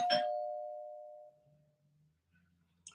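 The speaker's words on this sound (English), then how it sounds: "Someone's at my doorbell." A house doorbell gives one clear electronic ding that rings out and fades over about a second, followed by faint low murmuring in a quiet room.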